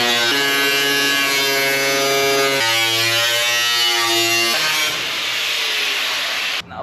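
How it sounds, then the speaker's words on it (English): An angle grinder whines steadily as it cuts into a wide front over-fender on a boosted Mazda Miata, its pitch stepping up and down under load before the motor winds off near the end. "Weapon of choice, a grinder."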